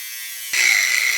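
A power tool cuts through the end of a metal motorcycle axle with a nut welded on it, starting abruptly and holding a loud, steady, high-pitched whine.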